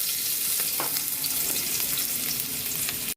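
Ginger sizzles and fries in hot oil in a pan for sweet and sour fish, a steady close crackling hiss with occasional stirring scrapes, no talk.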